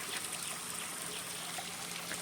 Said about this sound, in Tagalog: Tignan nyo yung yung tubig. Galing sa bundok yan.